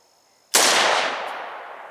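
A single sharp rifle shot cracks loudly outdoors at an 8-inch steel target plate, followed by a long decaying echo and a faint metallic ping from the distant plate.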